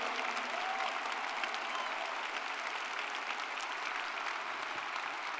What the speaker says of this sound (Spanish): Hoy pues yo creo que le podemos dar un mejor aplauso a Dios este domingo.